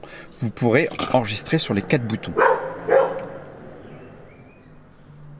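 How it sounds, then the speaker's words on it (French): A dog barks excitedly in a string of sharp, close barks beneath a voice talking about remote control buttons, then the barking fades out. "C'est mon chien qui s'énerve."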